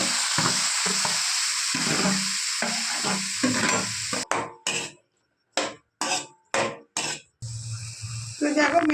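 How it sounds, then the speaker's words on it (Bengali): Butter hits hot oil in a wok and sizzles, with frying crackle and a spatula stirring and scraping in bursts, some stretches cutting to near silence, and a voice talking in the background. "গরম তেলের মধ্যে বাটার দিয়ে দিলাম।"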